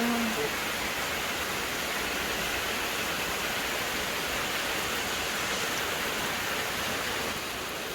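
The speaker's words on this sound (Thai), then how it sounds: "เอาฝนตกแล้ว" Steady rain falling outdoors in a rural Thai farming area, a dense continuous hiss that stays even and loud throughout with no talk.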